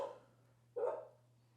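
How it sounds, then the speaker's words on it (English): A dog barks once in the background, a short muffled woof against a steady low hum, with quiet surroundings before and after. "Why is my dog barking so much?"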